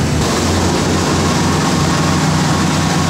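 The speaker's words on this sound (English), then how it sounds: "And the throttle on the engine just kicked in. You can hear the engines racing a little bit more." The engine of a GMC motorhome races at raised throttle. A loud, steady, low mechanical roar drones on without a break, and no voices are heard.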